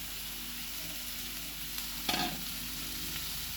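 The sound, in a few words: stirring spiced okra curry in a pan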